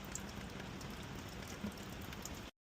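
Rain pattering steadily on a roof fitted with Tesla solar panels, a faint continuous hiss of drops with occasional louder taps, no talking.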